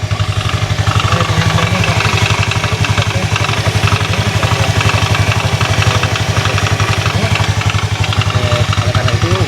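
A Honda automatic motor scooter engine idles with a rapid, steady rattling clatter from its CVT close up, continuous and loud throughout.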